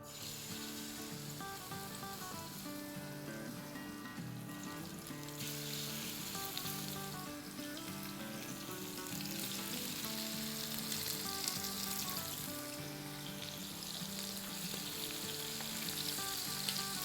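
Chicken pieces fry in three to four tablespoons of oil in a pan, a loud, continuous, dense sizzle that holds steady throughout with no talking.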